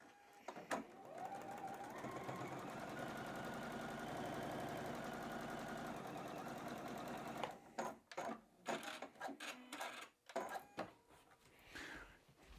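Sewing machine stitching quilt triangles along a folded edge, a steady fast mechanical whir and needle chatter running for several seconds, then stopping into soft fabric handling and clicks.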